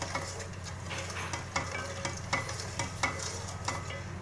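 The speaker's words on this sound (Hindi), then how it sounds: "इसको अच्छे तरीके से मिक्स करूँगी।" Milk and sugar are stirred in a pot, giving a continuous swishing sound with regular scrapes and light clinks of a spoon against the pot, close and moderately quiet, with no talking.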